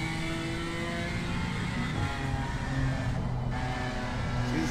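A BMW M4 GT4 race car driven in Assetto Corsa Competizione at Barcelona, its engine droning and revving steadily through the gears with a rising and falling pitch, loud and continuous with no voice over it.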